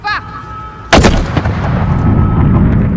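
A loud burst of gunfire erupts in Call of Duty Modern Warfare, a sharp blast followed by crackling reverberation and sustained rumble, preceded by a brief tonal in-game sound.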